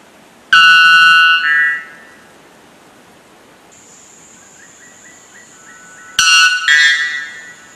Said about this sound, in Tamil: நம்பர் 3 இந்த ஒயிட் பெல் பேர்ட் தான்.